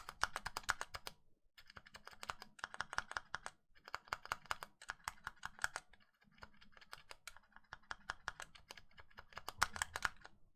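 Keyboard keys with band-aid modded, lubed and clipped stabilizers pressed in quick bursts, crisp rapid clacks in clusters separated by brief pauses, close and fairly quiet with no talking.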